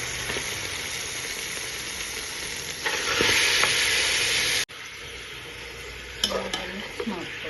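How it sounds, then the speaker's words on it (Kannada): Washed mutton pieces dropped into a hot pan for Lucknow mutton biryani, sizzling steadily and loudly, swelling into a stronger hiss, a sudden cut, then quieter frying with stirring clatters; no talking. "ಈಗ ತೊಳೆದಿಟ್ಕೊಂಡಿರೋಂಥ ಮಟನ್ ಪೀಸ್ಗಳು ಹಾಕೊಳ್ಳೋಣ"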